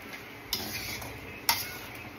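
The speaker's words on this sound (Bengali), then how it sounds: "একটু ভালো করে নাড়িয়ে দিই" Food is stirred in a cooking pan: two light, separate taps of a utensil against the pan sound over a faint, quiet hiss of cooking.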